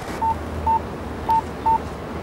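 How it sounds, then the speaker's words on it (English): Four short, clear keypad beeps from an early-1990s GSM mobile phone as a PIN is entered, evenly spaced and moderately loud over a quiet background hiss. "I insert the card here, enter my PIN number,"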